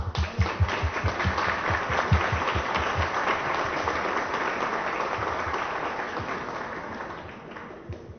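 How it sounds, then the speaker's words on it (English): An audience claps for a speaker after a talk on art, culture and the brain, a steady, fairly loud burst of applause that holds evenly for several seconds before tapering off near the end. "A big round of applause for Jackie,"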